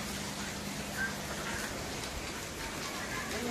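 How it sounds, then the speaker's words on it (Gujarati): Heavy rain pours steadily in Rajkot, a constant dense hiss of drops on surfaces at moderate level, with faint voices briefly audible beneath. "વરસાદ આવે છે"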